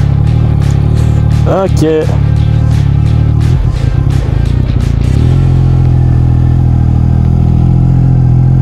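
A car engine pulls away uphill on snow, a loud, close, steady low drone throughout with brief clattering and a few short spoken words from inside the car.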